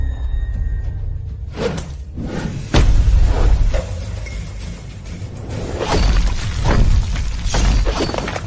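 Glass smashing several times in a tense dramatized scene, with sharp crashes and a heavy thud, loud and up close amid swishing movement, no talking.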